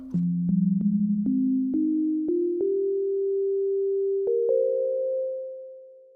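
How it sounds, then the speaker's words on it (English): A pure, smooth synthesizer sine wave tone passing through a filter sustains and steps slowly upward in pitch, with soft clicks at each change, then fades out. "the sine wave doesn't have any high-end harmonics for it to filter out"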